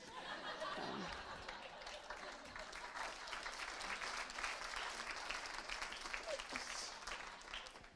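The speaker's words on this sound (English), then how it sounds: "It's strangely appropriate that it would get a clap." Audience applause at a comedy set during a secular conference: a sustained wash of clapping from a crowd, steady in level for several seconds, with a little laughter mixed in.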